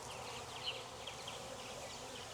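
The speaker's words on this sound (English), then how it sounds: "God, I love festooning bees." Honey bees buzz softly around a festoon of a hived swarm, a faint, continuous drone with small flickers of individual wingbeats, with no voices.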